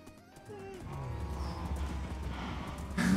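Video game horse hooves clip-clop in a steady rhythm close by, mixed with game music and other effects, while a person talks over them.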